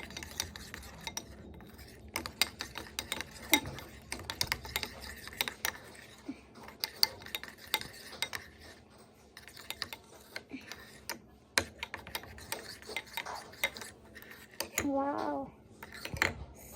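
Rice powder face pack mixture stirred in a bowl, giving soft, irregular clinks, taps and scrapes of a utensil against the dish, close and quiet, with a brief voice surfacing near the end.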